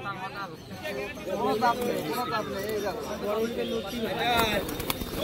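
Pigeons coo and warble repeatedly amid a busy crowd at the Birnagar bird market, with people chattering nearby throughout.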